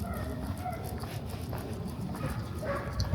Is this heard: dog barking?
yes